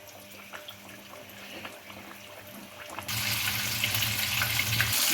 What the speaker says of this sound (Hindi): और अब हम इसे फ्राई कर लेते हैं।